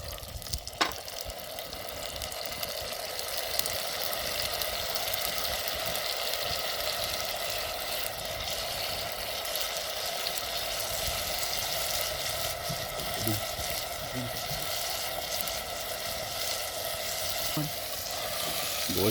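Mutton pieces added to onions frying in a pot sizzle in a steady, dense hiss that holds evenly throughout, with a few faint clinks and stirring scrapes scattered over it.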